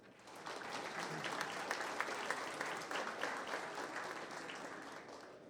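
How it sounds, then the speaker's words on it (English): An audience at a summit talk applauds steadily for several seconds, a dense clapping that swells and then tapers slightly, with no voices over it. "So please give a big round of applause"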